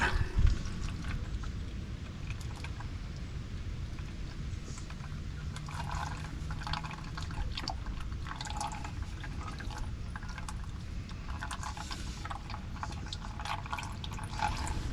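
Engine oil from a 2019 Ford F-350 6.7 diesel drains into a bucket in a steady, faint trickle with soft drips, heard alone throughout.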